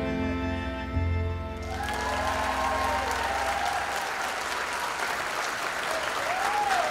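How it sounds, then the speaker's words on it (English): A crowd applauds after a performance of a song, with loud, dense clapping and some cheering that rises as the music fades out and then carries on steadily on its own. "And the crowd went wild."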